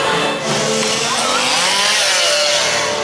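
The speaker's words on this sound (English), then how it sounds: "We got chainsaws." A chainsaw engine at a Halloween Horror Nights haunted house, Universal Orlando, whining loud and close, its high buzzing pitch rising and wavering as it revs steadily without pause.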